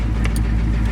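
A 6.5 turbo diesel Suburban engine runs at a steady idle with no throttle hooked up, a loud, close, low rumble with a brief higher whine above it.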